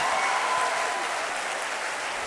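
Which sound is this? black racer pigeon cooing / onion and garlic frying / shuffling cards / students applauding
students applauding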